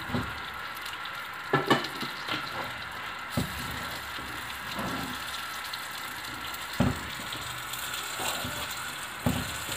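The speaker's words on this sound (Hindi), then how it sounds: "चलें, अब इस घी के अंदर मैं इस बेसन को अच्छी तरह से भूनूंगी।" Gram flour roasting in desi ghee for panjiri, a continuous soft sizzle and frying hiss with occasional stirring scrapes and clicks, close and steady, no voices.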